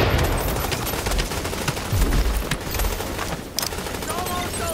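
Dense, continuous video game gunfire during a battle with NPC allies: rapid overlapping machine-gun bursts and a scattered fusillade of shots, loud and close with no let-up, and a voice speaking over the shooting.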